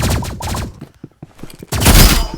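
Rapid bursts of energy pistol gunfire in a video game, loud volleys at the start, scattered lighter shots in the middle, then a dense, loud barrage at the end.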